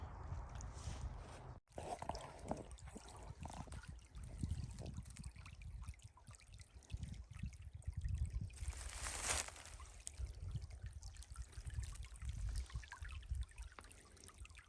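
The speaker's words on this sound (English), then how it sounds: "It's a nice little stream." A small stream trickles and babbles steadily nearby in dry Tennessee woods, with soft outdoor rustling and a brief thump early on.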